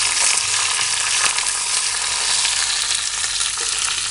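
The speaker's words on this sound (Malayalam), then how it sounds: "വറ്റൽമുളക് ഒന്ന് മൂത്തതിന് ശേഷം നമുക്ക് കറിവേപ്പില ചേർത്ത് കൊടുക്കാം" Curry leaves crackle in hot coconut oil with dried red chillies and mustard seeds for Onam puli inchi, a continuous close sizzle with dense popping throughout.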